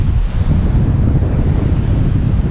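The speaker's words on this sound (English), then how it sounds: "The public beach at Rondeau." Surf at a sandy public beach at Rondeau rolls in as a continuous, loud low roar of waves, blended with wind buffeting the microphone and no pauses.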